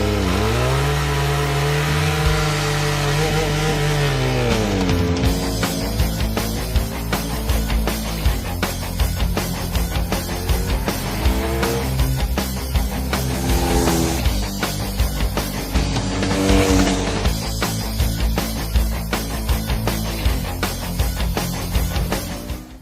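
A Benelli Leoncino 500 motorcycle engine runs steadily and loud throughout a 2018 test ride, with rising and falling revs, gear changes and a constant close drone, no talking.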